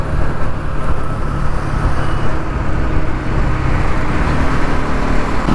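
Steady road traffic surrounds a Pulsar NS200 BS6 motorcycle caught in a summer jam, a dense, loud wash of engine rumble and road noise without pauses.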